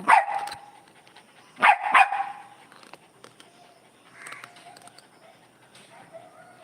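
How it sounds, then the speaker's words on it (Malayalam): A dog barks loudly near the start, then twice more in quick succession, followed by fainter, more distant barking and quiet pauses. "നിന്റെ കൂട്ടുകാരൊക്കെ ഇവിടെ കുരയ്ക്കുന്നു"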